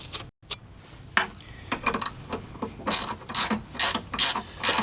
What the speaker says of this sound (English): I'll be able to use a socket and a ratchet rather than wrenches.